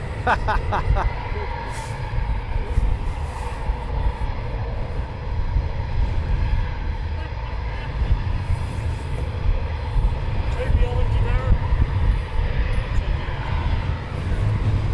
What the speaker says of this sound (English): Two ship coming in. Another Typhoon inbound from Anat. So these are going to come over the top of us.